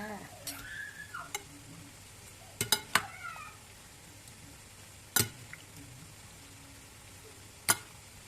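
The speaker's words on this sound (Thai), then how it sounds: "คนให้เข้ากันค่ะ" Stirring a bamboo shoot and pork belly mixture for a Thai steamed curry, with scattered clinks and scrapes of a utensil in the bowl at irregular intervals over a quiet background.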